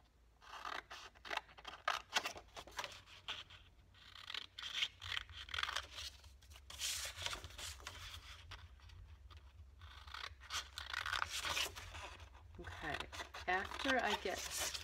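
Scissors snip through paper squares for a paper shadowbox frame in a quick series of close, crisp cuts and rustles, with a low background hum and a faint speaking voice at times.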